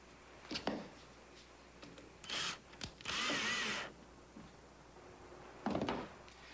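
A power drill drives a screw into a handmade boat's side skin in several short whirring bursts, one longer run in the middle, close up between quiet pauses.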